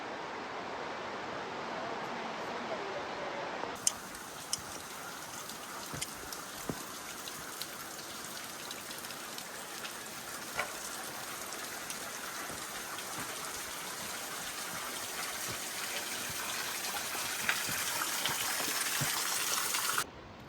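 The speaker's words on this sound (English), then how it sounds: "Waterfall." Oregon waterfall heard as a steady, broad hiss of falling water, faint and continuous, rising in fullness after a few seconds and holding steady throughout with no voices.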